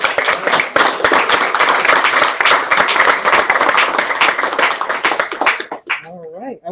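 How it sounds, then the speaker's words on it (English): An audience at a talk claps and applauds loudly and steadily for several seconds, then the clapping fades out abruptly. "another giant round of applause"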